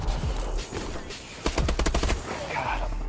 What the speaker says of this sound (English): I'm getting sniped by Wesley Snipes.